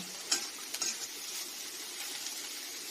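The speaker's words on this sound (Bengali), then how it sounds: "পেঁয়াজগুলোকে হালকা ভেজে নিচ্ছি।" Onions sizzle lightly in a pan, a soft, continuous frying hiss with a few quick stirring scrapes near the start and no talking.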